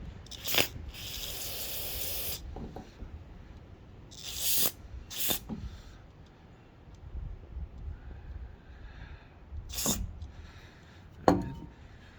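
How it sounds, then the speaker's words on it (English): Several short hissing bursts of carburetor cleaner spray on a Honda carburetor from a Powermate generator, one long blast and a few quick ones, with quiet handling noises and clicks between them. "So you want to spray them with carb spray, like you've been doing."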